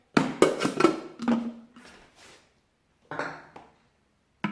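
A Thermomix lid being closed on a batch of parsnip and pumpkin purée: a quick run of close, hard plastic knocks and clatter, then a brief second rattle after a pause.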